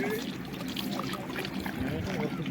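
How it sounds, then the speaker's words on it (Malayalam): A small, cold, clear mountain spring trickles in the Munnar hills of Idukki, a soft, continuous burble of running water heard under nearby voices. "ചെറിയ ഉറവ കേട്ടോ ഇത്."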